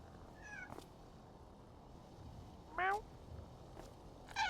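Three short video game cat meows spaced apart, fairly clear over a faint background hum, with light clicks between them.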